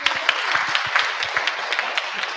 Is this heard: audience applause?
yes